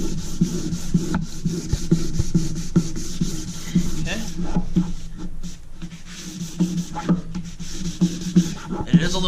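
Hand wet sanding across a painted candy drip boat finish to flatten orange peel, a close, rhythmic rasping of paper over the glossy surface in repeated short strokes, with occasional faint voice.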